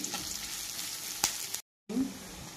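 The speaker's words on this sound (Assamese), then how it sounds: "অলপকে মই পিঁয়াজটো ভাজিম" Onion fries in oil in a pan, hissing and crackling steadily up close, with one sharp tap of a utensil, then a brief silent gap before the sizzle resumes.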